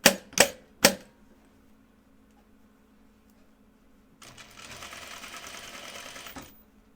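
Sewing machine working a French seam on a cardigan sleeve: three sharp mechanical clunks at the start, a quiet pause, then a steady close whirring run of stitching for about two seconds before it stops.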